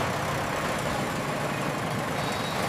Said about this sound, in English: The engine is running at full capacity, pushing us forward.